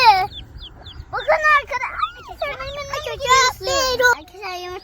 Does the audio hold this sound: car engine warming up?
no